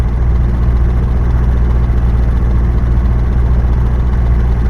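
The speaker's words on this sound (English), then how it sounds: "can you turn the engine off for me, please?" A vehicle engine idles in the Roblox game during a police roleplay, a steady low rumble with an even, unbroken drone, close and fairly loud with no talking over it.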